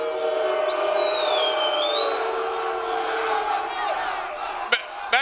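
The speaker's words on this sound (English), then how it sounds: "What does it feel like to be booed up there?" A crowd boos a fighter at a press event before a Pereira vs Ankalaev bout: a loud, sustained mass of jeering voices with shrill whistles rising over it, then a couple of sharp bumps near the end.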